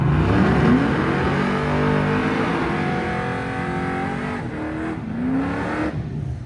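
A little blue Mustang accelerates on a drag strip, its loud engine note climbing and rising in pitch through the gears, with a second upward sweep near the end as it pulls away.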